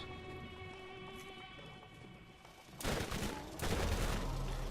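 Gunfire in the video game Borderlands, quiet at first, then bursts of dense rapid shots in two long volleys toward the end, loud and close.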